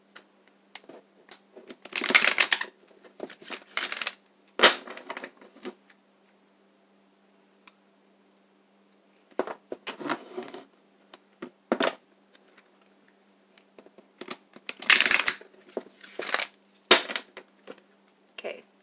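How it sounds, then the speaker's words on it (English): Large cards are riffled and shuffled in several bursts of rapid papery flutter and slapping, with short quiet pauses between. "These cards are a little bit bigger and harder for me to shuffle"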